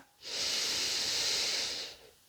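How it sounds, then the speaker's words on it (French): A single slow, deep breath taken while holding a yin yoga pose, a soft airy hiss lasting about two seconds, close and alone in a quiet room. "Encore une respiration profonde dans la posture."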